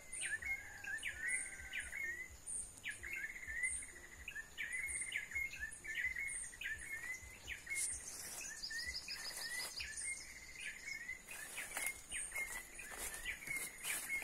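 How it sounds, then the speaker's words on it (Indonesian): Prinia birds sing in a rural village on a rainy late morning, with repeated bright chirping phrases over a steady insect-like drone and soft patter of rain. "sambil mendengarkan suara-suara burung perenjak yang sedang bernyanyi atau berkicau"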